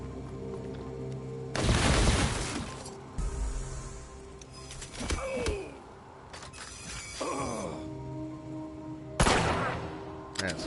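Gunfire during turn-based combat in Wasteland 3, several loud bursts of shots spaced apart amid groaning creature sounds and combat noise.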